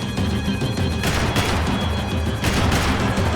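Rapid gunfire erupts in the Max Payne 3 video game, loud bursts of shots and crashing impacts stacked densely together, with a sharp flurry near the start and another volley late.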